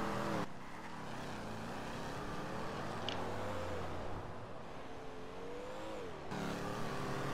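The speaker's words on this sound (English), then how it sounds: "let's see how it rips on the highway" Car engine revving and accelerating on a highway, a steady motor drone with rising and shifting pitch as it climbs through gears, close and continuous for several seconds.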